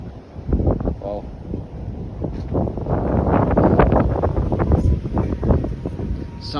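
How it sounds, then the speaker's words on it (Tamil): Strong coastal wind at Vung Tau, Vietnam, near a river mouth busy with ships, buffets the microphone in loud continuous rumbling gusts that swell and ease throughout. "செம்ம காற்று பயங்கரமாக இருக்குது."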